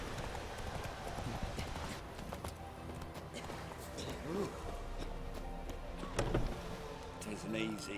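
Hooves of the horse Roach clip-clop at a steady trot in The Witcher 3, with a whinny-like tone and light game ambience around the rhythmic footfalls.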